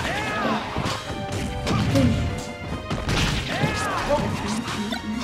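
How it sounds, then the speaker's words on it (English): A floor gets smashed during a Super Smash Bros match, with dense, continuous crashing and thwacking game effects layered over busy background sound and music throughout. "I just smashed like the whole floor."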